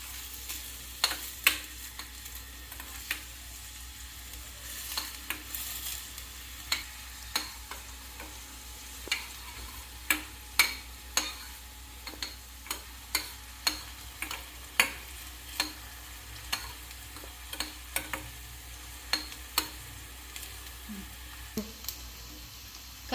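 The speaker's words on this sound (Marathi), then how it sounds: "कांदा लालसर होईपर्यंत, मऊ असा होईपर्यंत भाजून घेऊया" Onions frying in a pan until reddish and soft, a constant sizzle under regular scraping strokes of a spatula stirring them, close and fairly loud.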